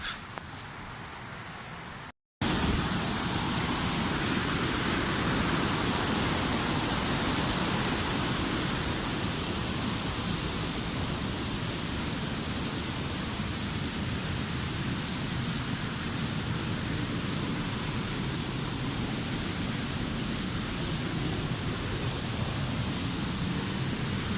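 A waterfall in Jardín, Antioquia, Colombia, roaring as a loud, steady, full-bodied rush of falling water that fills the whole stretch without letup, broken only by a brief dropout near the start.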